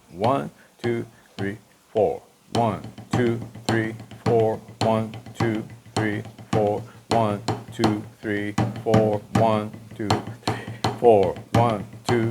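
Drumsticks play a triple paradiddle rudiment in a rebound exercise, giving crisp, rapid clicking strokes under a voice that counts steadily throughout.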